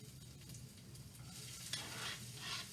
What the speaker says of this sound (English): we're going to put that in a little pan with some about a tablespoon of olive oil